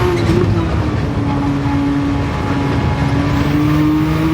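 A Lamborghini Countach QVX race car pulls at full throttle on a circuit, its engine a steady, loud, sustained drone with a slowly rising pitch, heard close and continuous without gaps.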